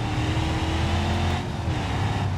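A car driven in the BeamNG driving game, its engine droning loud and steady with a sustained low hum and a slight shift in pitch midway.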